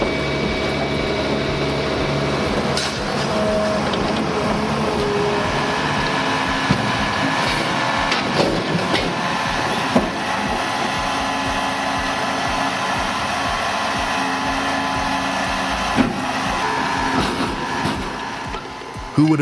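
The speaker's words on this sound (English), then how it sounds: "The Squalo 1000 needs no massive construction, yet it obliterates scrap at lightning pace" A Squalo 1000 portable industrial shredder grinds through scrap metal with a loud, continuous mechanical roar, broken by scattered clanks and knocks as pieces are torn apart, with a voice speaking over the noise.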